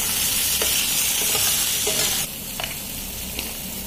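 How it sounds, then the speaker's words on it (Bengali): Thin Bengali singi fish curry with ground cumin, pepper and green chili paste stirred in a pan, a loud, dense sizzle that drops in level midway, with a few faint scrapes of the spatula. "ঢাকাটা খুলে আমরা একটু নেড়ে দিচ্ছি।"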